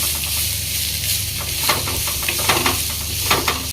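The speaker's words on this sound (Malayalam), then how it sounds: "ഉള്ളി നല്ലോണം ഗോൾഡ് ബ്രൗൺ ആവുന്നതായിരിക്കും നമ്മൾ ഇങ്ങനെ മിക്സ് ചെയ്ത് കൊടുക്കും" Onions fry and get stirred in a pan while being cooked for a Tamil Nadu style mutton curry, making a continuous close hiss. Periodic scraping strokes run through it and no voices are heard.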